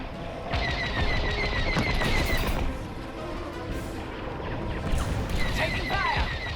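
Laser cannon fire and explosions in a Star Wars: Squadrons space dogfight played in VR, rapid zapping bursts and crashing blasts layered over a steady roar, loud and continuous, with a voice heard briefly.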